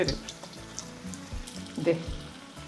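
Mirchi chillies frying in hot oil, a close, continuous crackling sizzle with soft stirring knocks and spatters and a faint voice in the background.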